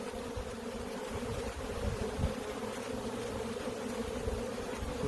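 Honey bees buzz steadily at an open hive in Michigan during brood frame removal, a dense continuous drone close by with no talk over it.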